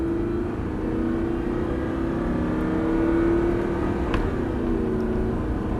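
An Audi R8 supercar on a test track, its engine holding a steady, rising drone heard from inside the cabin. The pitch climbs and levels as the car accelerates, with road noise beneath and no talking.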